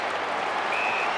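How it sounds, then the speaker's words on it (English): An AFL stadium crowd at a Hawthorn versus Melbourne match roars in a broad, steady wash of noise, with a faint whistle briefly rising above it. "Crowd roaring."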